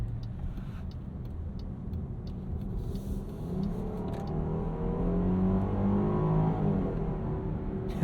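A 2022 Jeep Grand Cherokee with a 3.6-liter V6 cruises with a smooth, low engine hum and road rumble inside the cabin, the drone rising gently as it picks up speed.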